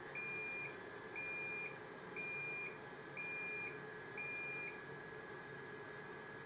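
An electronic low-flow alarm on a 3M Versaflo TR-300N+ powered air-purifying respirator beeps in a steady pattern, five evenly spaced high tones about a second apart over a constant low mechanical hum.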